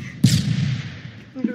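A single sharp burst of long machine gun fire in the shooter game Phantom Forces, a loud crack then a decaying rumble, followed by a faint second report.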